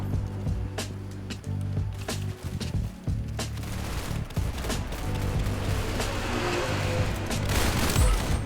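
Rapid gunfire from a weapon in a video game, repeated sharp bursts and single shots crackling over a steady background hum, loud and close, with some distant explosions.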